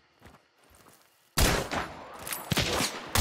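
Gunfire in the video game Hunt: Showdown: after quiet faint rustling, a sudden loud burst of shots breaks out, followed by further reports and echoing cracks.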